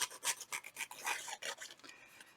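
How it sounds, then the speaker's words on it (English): A Tim Holtz paper distresser roughens paper edges with quick, dry rasping scrapes in an uneven rhythm, close and fairly quiet. "So this is the Tim Holtz paper distresser."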